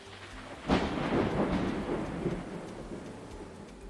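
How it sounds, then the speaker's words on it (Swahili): Steady rain falls over a rural village, with a rumble of thunder swelling briefly before fading back into the constant hiss of the downpour. "Mvua ile ile ya milimita 100 inanyesha."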